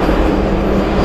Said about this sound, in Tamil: என்ன ஸ்பெஷல் ட்ரெயின் அது?